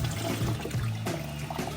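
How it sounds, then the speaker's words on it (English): Leftover water from a fish tank sump gushing and splashing out into a container, a steady close rushing pour with gurgling bursts throughout. "Whatever's left in the sump is gonna dump out into here, which is good."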